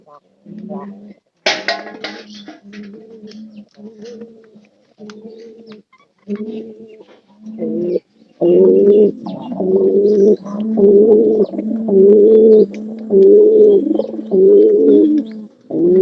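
Pigeons coo in close, repeated rounds, the calls growing louder and steadier in the second half, with a brief flutter of wings early on and someone talking in between.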